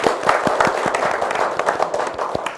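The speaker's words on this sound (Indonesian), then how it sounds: "Tepuk tangan." Audience applause at an Indonesian entrepreneurship event, a steady dense patter of many hands clapping at an even level throughout, with no voices standing out.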